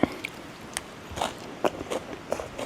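Someone eats food in a durian orchard, with close, quiet bites and crunchy chewing in irregular bursts, a handful of distinct crisp crunches spread across the moment.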